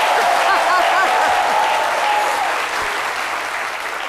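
An audience at a French talk show applauds in a dense, sustained wash of clapping that fills the room, a faint whistle-like tone riding above it before the ovation slowly thins toward the end.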